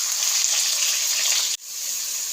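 Sliced onion and halved green chillies frying in hot coconut oil in a pan, giving a steady bright sizzle that holds close and loud, then cuts out briefly and swells back up.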